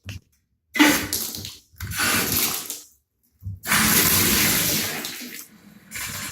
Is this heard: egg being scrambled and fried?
no